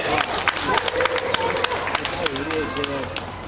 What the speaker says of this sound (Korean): 큰 박수 한번 보내주시면 음악 드리도록 하겠습니다